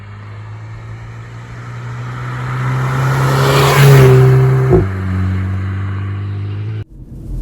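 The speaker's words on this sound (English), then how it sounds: "here we are driving Racingline'S Polo GTI with its 16 modifications" A modified VW Polo GTI driving, its engine humming steadily then climbing in revs to a loud peak before easing off and dropping away abruptly near the end, heard from inside.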